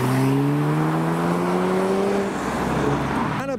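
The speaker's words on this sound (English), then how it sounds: "Next up we have an Audi RS4." An Audi RS4 pulls away from a roundabout outside a business park, its engine note rising steadily as it accelerates past, loud and close, then fading toward the end.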